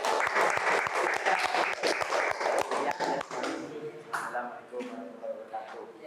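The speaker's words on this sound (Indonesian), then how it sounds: "Kita kasih aplaus untuk kelompok 1." Classroom applause for a student group at an Islamic senior school history lesson, dense steady clapping from many hands, close and loud for about three seconds, then thinning into scattered claps with a little background chatter.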